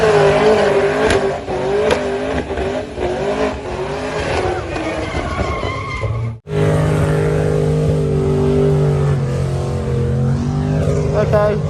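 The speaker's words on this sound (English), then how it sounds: "He's now doing the punishing skid" A Holden ute with a blown engine doing a punishing skid, engine loud and strained at sustained high revs with tire noise, a brief cut midway before the roar resumes.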